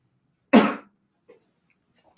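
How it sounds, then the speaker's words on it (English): A single sharp cough, close and loud, followed by a faint small sound and a brief click. "sorry, just coughing."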